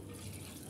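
Water pours steadily into a mixer jar holding Schezwan chutney, a brief, soft, continuous splashing run with no talk over it.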